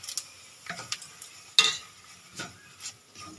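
Semolina stirred and lightly fried in hot oil seasoned with mustard seeds and cumin, with repeated scraping and tapping of a spoon against the pan over a faint sizzle.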